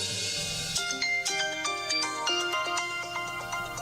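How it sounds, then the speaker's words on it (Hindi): A mobile phone ringtone plays a bright, repeating electronic melody of quick stepped notes, loud and close, alone without speech. "मेरा फोन।"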